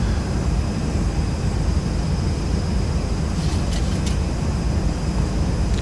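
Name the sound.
Boeing 737-200 engines increasing thrust in video game X-Plane 11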